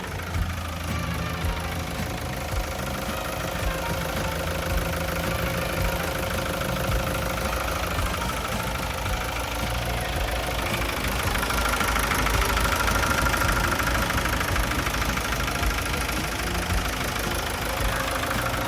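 The turbo diesel W04D engine of a Sakai TZ701 road roller idling up close, a steady knocking rumble with a rising whine that swells midway, continuous and loud throughout.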